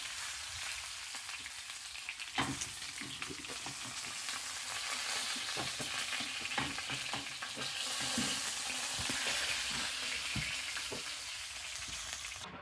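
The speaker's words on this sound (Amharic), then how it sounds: "ቺክናችንን በዚህ መልኩ ደርሷል። 5 ደቂቃ በሁለቱም ሳይድ ጠብሰነዋል።" Chicken pieces fry in a pan, browned five minutes on each side, giving a continuous close sizzle with scattered crackles and pops and no talking.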